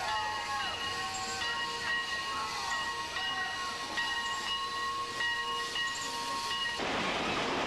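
Vintage train rolling along with a steady mechanical rumble and hiss, tonal squeals and whistle-like pitches sliding over it, then a burst of broadband steam noise near the end.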